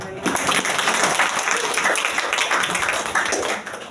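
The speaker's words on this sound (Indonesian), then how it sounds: "Tepuk tangan buat Tuhan" A church congregation applauds steadily for several seconds during a service, dense clapping filling a large room, with a voice faintly underneath.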